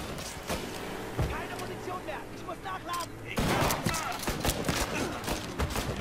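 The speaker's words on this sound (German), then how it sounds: "Zwei Schüsse und die sind weg." Bursts of gunfire crack out in the game Mafia III, sharp shots scattered through the clip amid busy background effects.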